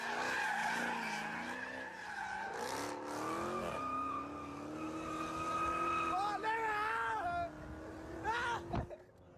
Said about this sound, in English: He's probably gonna do a big donut